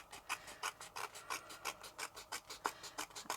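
Card stock being trimmed for card making with a paper trimmer, a run of about a dozen short, regular raspy strokes repeating at a steady rhythm, close and fairly quiet, with no talking.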